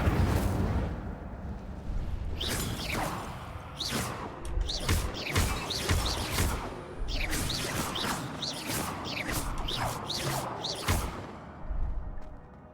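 Incendio fire spell cast repeatedly in the video game Hogwarts Legacy, a series of loud fiery whooshing bursts and crackling blasts in quick succession, close and dense.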